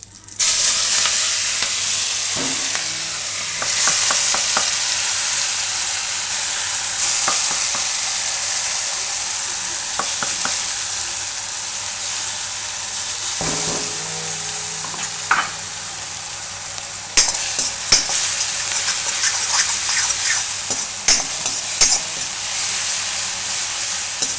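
Green chillies and asafoetida hit hot oil for tempering, a loud close crackling sizzle that carries on steadily with bursts of spattering and stirring clatter, and no voices.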